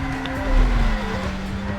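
A car in the Burnout racing game revs hard with a sustained engine drone and a squealing tire skid. The sound stays loud and steady for under two seconds.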